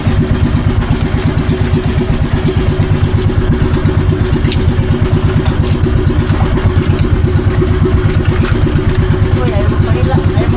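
Boat engine chugs loudly and continuously at a steady idle-like rhythm, with clattering throughout, on a fishing trip where bait is being readied.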